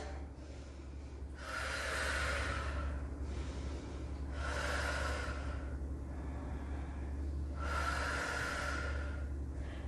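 A yoga practitioner holding a pose during a vinyasa session, breathing slowly and audibly with three long, airy inhale-exhale cycles in a steady rhythm, close and alone with no talk.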